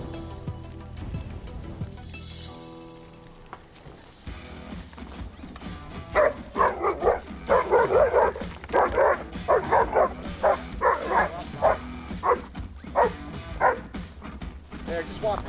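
A reactive young German Shepherd barks in a rapid series of sharp, loud yaps and whimpers during a training session, with mechanical background noise and occasional faint voices.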